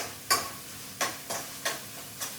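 A spatula hitting and scraping a pan five times at uneven intervals while a gravy base is stir-fried, short sharp strokes over a quiet background.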